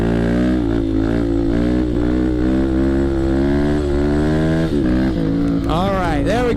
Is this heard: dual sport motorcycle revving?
yes